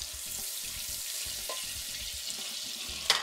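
Butter melting into hot oil in a home kitchen pan gives a steady, close frying sizzle throughout, with faint clinks and a brief sharper spatter near the end.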